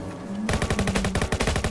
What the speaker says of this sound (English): I see gunshots. Gunshots!